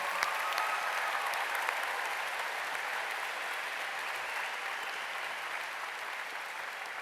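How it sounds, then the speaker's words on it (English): A large convention crowd at MINECON applauds its exhibitors, a steady, even wash of clapping from many hands that holds at a moderate level throughout, with no voices standing out. "Let's give them a big round of applause."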